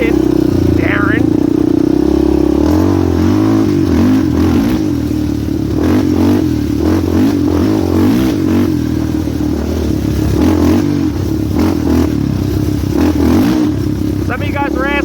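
A Suzuki LT250R quad fitted with Predator Stage 4 shocks, ridden on a fall outing to the store: a loud, close, buzzing engine that rises and falls with throttle changes under steady wind and rattle.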